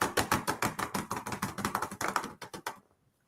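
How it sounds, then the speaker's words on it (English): Loud computer keyboard typing rattles close up in a rapid, steady run of sharp keystrokes for nearly three seconds, then stops in quiet. "Boy, your keyboard is really loud."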